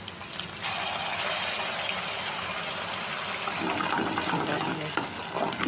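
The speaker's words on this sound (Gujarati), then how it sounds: "હવે હલાવી લઈએ પનીર તળાઈ ગયું એ જ તેલમાં આપણે આમ ગ્રેવી બનાવીને નાખી દઈશું" Gravy for paneer butter masala is added to the hot oil left from frying paneer and stirred, giving a steady sizzling, bubbling hiss with soft scraping from the stirring.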